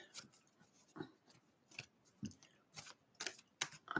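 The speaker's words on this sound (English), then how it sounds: "let me get those shuffled" Tarot cards being shuffled by hand give a series of crisp, irregular riffling and slapping bursts, close and quiet, with short gaps of near silence between them.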